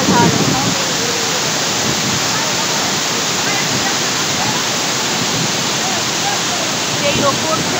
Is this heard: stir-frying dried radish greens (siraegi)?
no